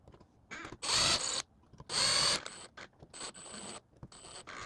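Screws are tightened while a eufy E330 video smart lock is fitted to a door, heard as bursts of whirring powered-driver noise mixed with shorter mechanical clicks and rattles, close and loud, with no speech.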